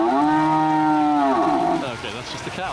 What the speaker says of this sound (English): that's just a cow